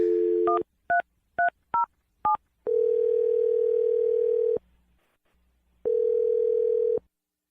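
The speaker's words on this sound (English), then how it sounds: "I'm going to dial the phone number for Brielle" On a phone call, a quick burst of five touch-tone dial beeps plays, followed by two long, steady ringback tones separated by a pause. The tones are clear and close, with no talking.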